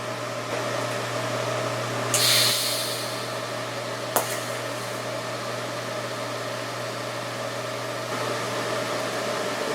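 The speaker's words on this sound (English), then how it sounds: "I'm just going to use that to practice running a few beads on and controlling my weld" Welding arc laying practice beads on a test piece for a Piper Super Cub wing inboard flap hinge: a steady buzzing hiss runs throughout, with a brief swell early on and a single sharp click near the middle.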